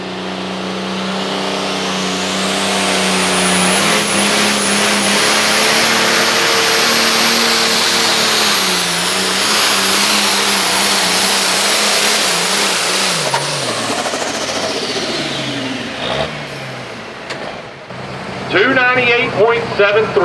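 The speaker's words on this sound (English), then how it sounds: "Looking for Eddie Ocker out of Chambersburg running New Holland they call Bull Ride" A New Holland tractor strains down the track at a truck and tractor pull, its engine roaring loud and steady for about thirteen seconds before it winds down, with an announcer's voice coming through the noise near the end.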